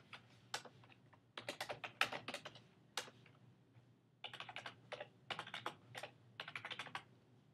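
A name is typed on a computer keyboard in short bursts of quick, crisp key clicks with brief pauses between words, close and fairly quiet, with no talking.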